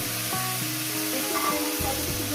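Spices sizzle hard in a pan as a little water goes in while dry Bengali chorchori cooks with spinach, potato and mourala fish. The close, steady hiss carries faint tonal clinks underneath.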